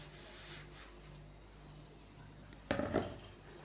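Peanuts and flour tipped into hot sugar syrup in a cooking pot for rice pinni, giving a short clatter and scrape of ingredients against metal near the end, after a quiet stretch.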